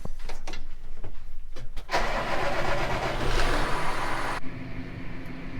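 A tractor engine cranks with a few ticks and clicks and then catches into a loud, steady running roar, which drops off abruptly to a quieter idle near the end, with no talking.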